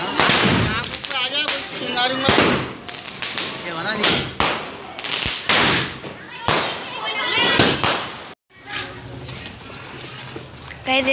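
Diwali sky shot fireworks going off at night near a house, a dense run of sharp crackling bursts and pops with one brief pause, voices talking throughout.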